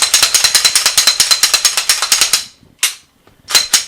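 The slide of a Glock 17 Gen 5 pistol is racked over and over in quick, even metallic clacks, a dense rapid run followed by two separate sharp racks, close and loud with no voices.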